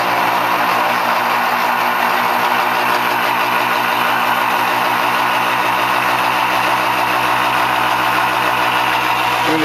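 A James Zero Force motor runs steadily and continuously, a loud, even hum with a fine rapid pulsing texture and no pauses.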